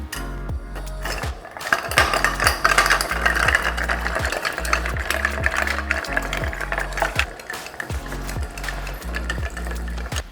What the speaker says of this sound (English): And now we just stir until the drink is perfectly diluted and really, really, really cold.